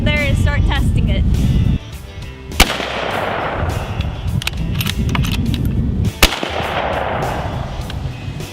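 Two sharp, loud rifle shots ring out several seconds apart from a Savage Axis rifle fitted with a Nikon Prostaff 5 scope, each followed by a short outdoor echo, with someone talking in between.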